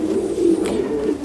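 A racing pigeon hen coos nearby in a loft, a loud, low, steady throaty coo lasting about a second, with no other sound over it.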